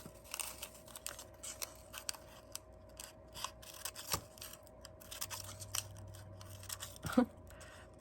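Scissors snipping paper fringe for a spring craft project, a series of light, crisp cuts at an uneven pace, close and fairly quiet, without talk.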